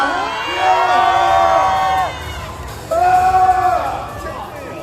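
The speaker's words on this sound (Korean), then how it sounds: "큰 박수로 맞이해주세요." A crowd at a Korean red carpet fan event for Demon Slayer voice actors erupts in loud, high-pitched cheering and screaming, in two sustained bursts separated by a brief lull.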